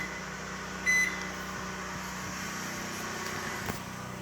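Steady drone of a Predator 8750 generator powering a running microwave oven, with a brief beep near the start over the constant hum of the motor and fan; no talking.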